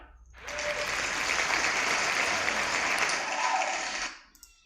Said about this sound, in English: this storyteller comes with his own applause